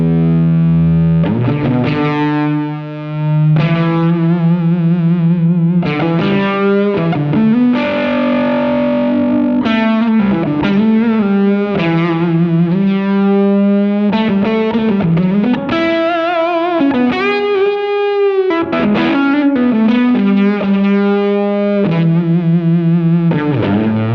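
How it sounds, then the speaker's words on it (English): An electric guitar runs through a germanium transistor fuzz pedal, playing sustained chords and riffs with thick, saturated distortion that stays loud and continuous throughout. "You could get only Germanium transistors and sounds like this."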